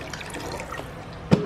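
Soft bubbling and light watery plops rise from a pot of pasta soup coming to the boil, close and fairly quiet, with a brief louder splash near the end.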